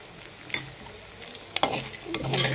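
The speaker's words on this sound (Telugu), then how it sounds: "ఇప్పుడు నేను ఈ గ్రైండ్ చేసుకున్న పౌడర్ని వేసుకుంటున్నాను." Fried bitter gourd pieces are stirred in a pan with freshly added ground spice powder: a few utensil scrapes and clinks over a soft, continuous sizzle, close by, with no one speaking.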